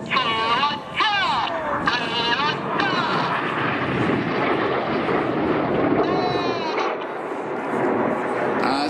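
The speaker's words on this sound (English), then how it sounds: "As the seven aircraft draw the palm tree above us, red 6 and 7 stay low" Seven Red Arrows jets fly a display overhead at the 2019 New York International Airshow, giving a loud, continuous roar that swells and holds throughout while a commentator talks over it.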